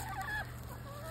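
Frizzle and Silkie chickens cluck softly at a home flock, giving a few short, quiet calls in a brief moment.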